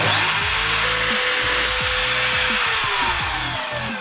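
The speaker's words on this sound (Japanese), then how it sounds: "ここにね M6 のボルトを通そうと思ってるので 6mm の穴を開けて" A power drill bores a 6 mm hole through wood for an M6 bolt, a loud continuous motor whine with chattering, grinding bursts as the bit cuts, steady for about four seconds before easing slightly at the end.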